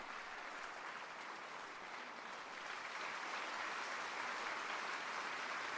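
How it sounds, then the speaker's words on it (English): A crowd claps and applauds in a Madden 25 American football game on draft day, a steady, fairly faint patter of many hands without pause and with no voices over it. "All the clapping, that's a good sign."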